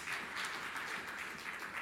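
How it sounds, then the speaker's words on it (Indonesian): Dense, steady applause from a church congregation fills the space at moderate volume, a continuous wash of many hands clapping with no gaps. "Tepuk tangan yang meriah untuk kemuliaan."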